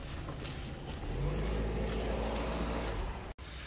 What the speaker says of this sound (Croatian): jel ovo ide auto